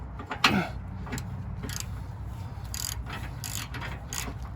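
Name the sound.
ratchet loosening a nut on a control arm bolt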